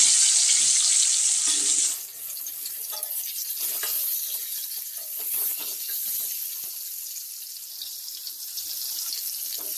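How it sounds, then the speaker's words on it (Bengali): Potatoes go into hot oil in a kadai on a home stove. A bright hiss gives way after a couple of seconds to a steady, close sizzle of frying with small crackles throughout. "কড়াতে আমি তেল দিয়ে দিয়েছি চলো আলুগুলো দিয়ে নিচ্ছি"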